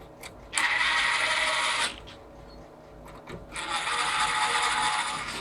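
Bolts reseated on a Yardworks lawnmower engine with a ratchet, giving two close bursts of rapid clicking and rasping separated by a short pause.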